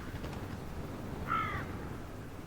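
A single crow caws once in the Alps near an ibex carcass. The call is short and moderately distant, over a steady outdoor hiss of wind.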